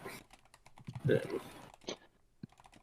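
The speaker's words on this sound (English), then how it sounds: "Too many typing." Computer keyboard typing clicks in rapid, uneven bursts, heard faintly beneath a person talking throughout.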